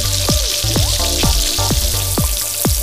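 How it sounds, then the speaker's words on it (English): Tamarind extract poured into ladyfinger (okra) cooking in a hot pan, a loud, close sizzle with repeated sharp bubbling pops and crackles bursting at a steady rhythm, no talking. "In goes some tamarind extract"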